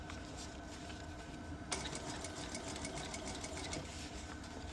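A sewing machine runs steadily along a bucket hat seam, a continuous faint mechanical hum with a slight jump in intensity partway through, with no voices.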